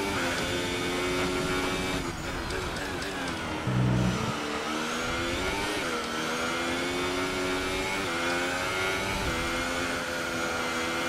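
An F1 car in the racing game F1 2018 screams under hard acceleration, its high engine whine climbing through gear changes. The sound is loud and continuous, with a brief low rumble partway through.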